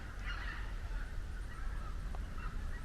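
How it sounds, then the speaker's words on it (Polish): Geese honk in flight overhead near the Baltic coast, a flock's repeated calls carrying over steady wind noise. "A te gęsi to lecą w ogóle"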